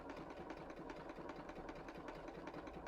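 A sewing machine stitches a coiled rope bowl, its steady motor whir running continuously at close range with a faint rhythmic needle chatter underneath.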